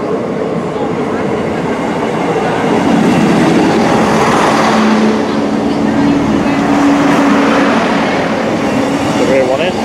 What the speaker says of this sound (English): Here comes my train.